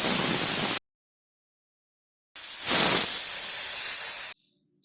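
Two loud bursts of hissing steam from a pressure cooker whistle while cooking rice for papad, the first under a second long, then a pause, then a steady two-second blast.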